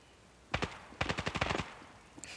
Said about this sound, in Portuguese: 7 mil tiros no vento